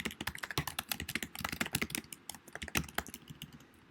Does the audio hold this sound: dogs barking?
no